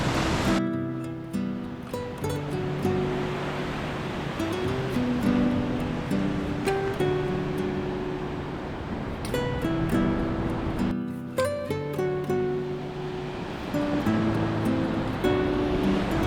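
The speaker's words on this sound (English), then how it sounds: "Today, very big surf, big surf." Big ocean surf breaks on a beach in Phuket, Thailand, a steady roar of crashing waves that holds for the whole stretch, with two heavier surges rising partway through and no voices.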